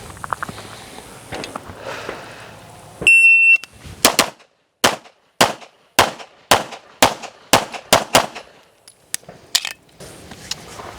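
Pistol shots fired one-handed during practical shooting training at a USPSA match: about a dozen sharp, loud reports in a quick irregular string, preceded by a brief beep and some handling noise, with no talk.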